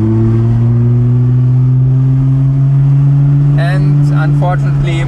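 A loud Gemballa Avalanche 650 Roadster GTR EVO-R engine drones steadily with a rising tone as it revs in Monaco, while a voice speaks briefly near the end.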